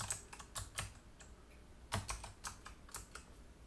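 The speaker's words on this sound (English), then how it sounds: "I'm going to go directly to the Java docs page. Okay, and we'll do it that way. And here I'm going to type in," Quiet typing on a computer keyboard, a short uneven run of clicking keystrokes in small bursts with brief pauses, alone and close.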